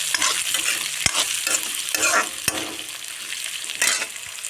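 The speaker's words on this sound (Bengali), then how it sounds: "তারপর দেব আলু ভেজে রেখেছিলাম, দিয়ে দেব আলু, দিয়ে নাড়াচাড়া করতে থাকবো।" Fried potato pieces stirred with asafoetida in a hot pan, a loud close sizzle broken by sharp scraping strokes of a spatula and a few knocks against the pan, with no voices.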